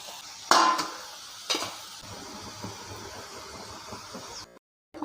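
Dough for a crispy tea-time snack dropped into hot oil, two sharp splashy bursts followed by a softer continuous sizzle with light clinks of utensils against the pan, no voices.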